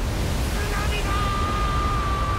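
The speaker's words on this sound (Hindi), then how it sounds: "भाई साहब सुनामी आ गई दोनों साइड से, इतनी बड़ी बड़ी लहरें लेके" Roaring tsunami waves in the One Piece Burning Blood video game, a dense continuous rushing wash with a faint tonal whine over it, heard alone at a loud level.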